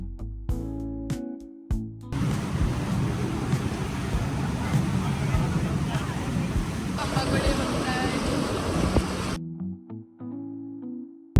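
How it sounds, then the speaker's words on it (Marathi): A ferry pulls away across the water near an island in Sweden. A broad, rushing roar of engine, wind and water swells up and holds for several seconds before dropping away, with voices at the start and end. "आता आम्ही बसलो आमच्या बोटीमध्ये फेरीमध्ये आणि थांबत थांबत जशी जायला आता निघाली आहे बोट."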